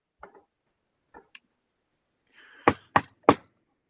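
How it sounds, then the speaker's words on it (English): Knocking at a door in a Macbeth scene: a few faint taps and a click, then three loud, heavy knocks in steady rhythm, close and otherwise quiet. "Here's a knocking indeed."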